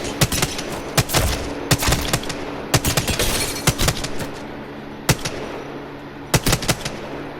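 An R-301 rifle in Apex Legends fires in single shots, sharp irregular cracks spaced out over steady in-game background noise, loud and close with no talking.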